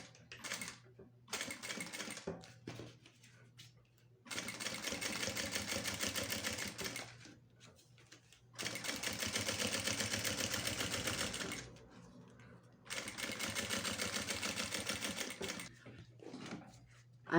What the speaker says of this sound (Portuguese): aí você vai fazendo a costurinha de um pé de máquina para segurar esse material